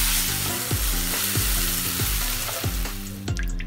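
Ground spice paste sautés in a little oil, a loud dense close sizzle with rhythmic scraping stirs every half second or so, steady throughout and without talk.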